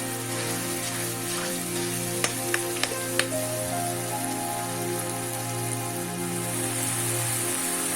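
Tomato masala for chole, made without onion or garlic, sizzles and fries steadily in hot oil, a continuous crackling hiss with a few sharp ticks near the start, close up and alone.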